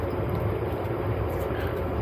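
Steady, loud rumble of the Pune–Howrah Azad Hind Express (12129) running along the track, heard from inside a passenger coach as an unbroken, even roar with no talk.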